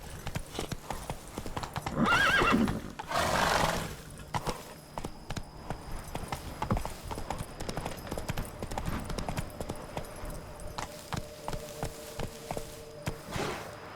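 Horse hooves clip-clopping at a steady gait in The Witcher 3 video game, with brief whinnies near the start and a rhythmic, fairly close beat continuing throughout.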